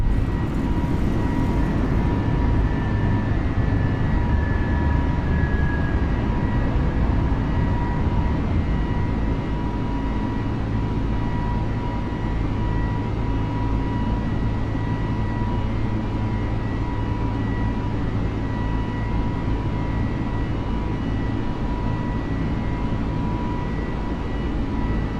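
Airbus A320 jet engines roaring at takeoff power in Microsoft Flight Simulator 2020, a loud steady broadband rumble with a thin high whine throughout, no voices.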